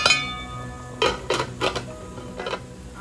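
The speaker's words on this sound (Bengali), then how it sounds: "আমি এখন ঢাকনা দিয়ে ঢেকে দিচ্ছি" A lid goes onto a cooking pot of rasgulla, chhena balls simmering in syrup, giving a few sharp metallic clinks and rattles spaced over a couple of seconds in a quiet kitchen.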